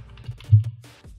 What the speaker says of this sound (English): After that, you can start typing whatever text you want to use.